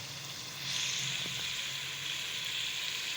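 Spinach goes into a pan of fried spices for a dal and spinach dish, raising a steady close sizzle that swells slightly as the leaves hit the hot oil, then keeps hissing evenly.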